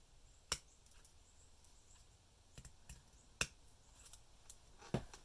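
New scissors cut paper in a quiet room, giving a few sharp, separate snips spaced a second or two apart with near silence between them.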